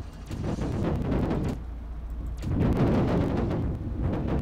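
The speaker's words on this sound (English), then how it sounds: "that should cause an explosion or two" Explosions in the video game Amazing Frog, set on the moon: a loud, sustained rumbling roar of blasts that swells, dips briefly, then surges again.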